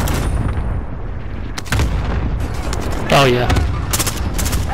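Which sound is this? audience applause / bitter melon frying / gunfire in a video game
gunfire in a video game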